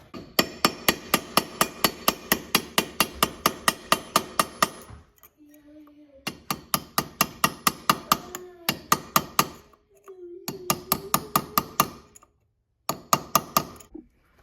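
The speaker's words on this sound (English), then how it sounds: "let's bend that tab down" Metal hammer blows flatten a lock washer tab on a DRZ400SM motorcycle, struck in fast, even bursts of sharp close clanks with short pauses between runs.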